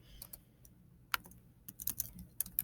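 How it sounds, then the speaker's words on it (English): Quick, close clicks of typing on a computer keyboard come in short irregular bursts separated by pauses, quiet and crisp, with no talk. "I'm going to type that"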